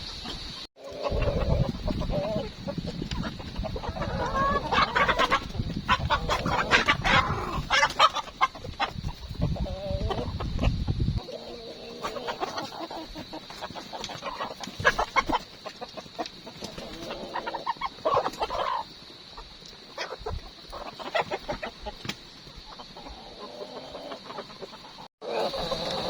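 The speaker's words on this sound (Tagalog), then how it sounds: "At nagpapatoka na kami ng aming alagang manok." Pet chickens clucking and a rooster calling nearby, repeated irregular clucks over a constant high electronic whine, busier in the first half and sparser later.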